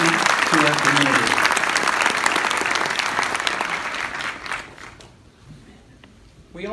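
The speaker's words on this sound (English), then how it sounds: "Please applaud these volunteers to show your appreciation for their commitment to our community." Audience applauding volunteers at a community awards event, a dense roar of clapping from a large crowd that fades toward the end, with a few voices under it early on.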